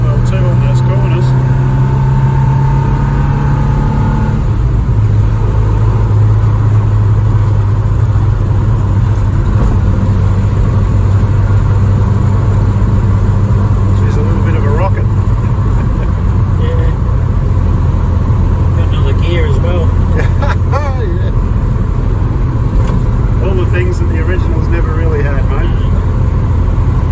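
A classic Morris car's engine drones continuously from inside the cabin while driving and cornering, the steady rumble shifting in pitch as it goes, with people talking over it throughout.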